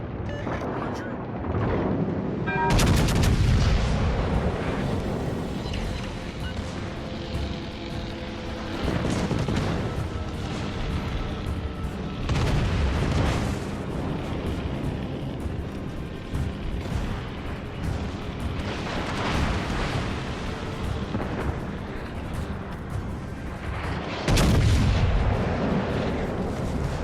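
Heavy naval gunfire in World of Warships Legends from a Tier VII premium battleship Massachusetts: a loud sustained battle roar broken by several deep booming salvos at irregular intervals, the biggest near the start and end.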